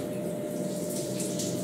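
Shower water running steadily in a hotel bathroom, a constant hiss and splash, fairly quiet, with no talk.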